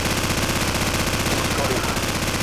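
Call of Duty gunfire rattles off as loud, rapid, evenly spaced automatic shots that run without a break from start to finish.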